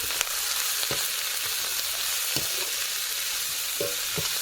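Food is stirred in a pan after turmeric and salt go in. A steady, close sizzle runs throughout, broken by a handful of spatula scrapes against the pan, with no talk.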